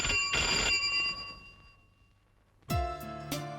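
A telephone rings with bright, sustained electronic tones, one burst of ringing, a pause, then louder repeated rings near the end.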